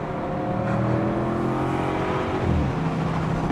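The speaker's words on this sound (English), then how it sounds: "And as it changes gears, it burbles" An Audi RS7 Sportback V8 (2021) burbles through gear changes, a deep, steady engine note that dips and picks up again as it shifts, close and loud with no talk.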